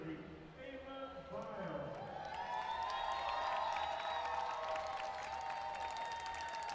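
Falcons fans applaud a Bowling Green swimmer heading to the podium at the MAC Swimming and Diving Championships, a sustained crowd clapping and cheering in a natatorium, partly under a commentator's voice.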